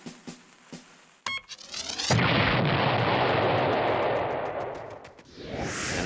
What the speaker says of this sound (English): Chili had a little bomb whose button made it go.